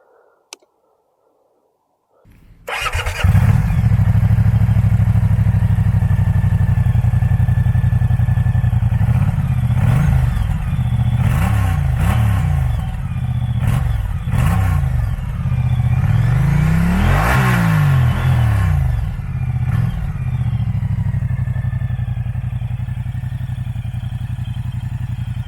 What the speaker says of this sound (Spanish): arrancarla para que escuchéis cómo suena este motor en V